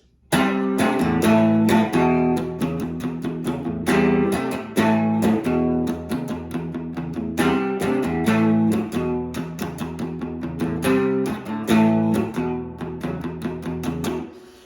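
An electric guitar riff with a mostly clean, slightly distorted tone, steady strummed power chords repeating in rhythm, loud and close with no voices.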